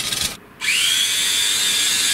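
A homemade electric bicycle driven by an angle grinder motor starts up: a brief loud whirring burst, a short pause, then a steady high-pitched grinder whine that holds close and loud.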